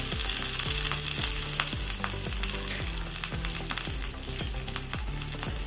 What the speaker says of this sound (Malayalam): വറ്റൽമുളക് ചേർത്ത് കൊടുക്കാം കാശ്മീരി മുളകാണ് ഉഴുന്ന് പരിപ്പ് കടലപ്പരിപ്പ് ആദ്യം ഇട്ട് കൊടുത്ത്